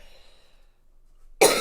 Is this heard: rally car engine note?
no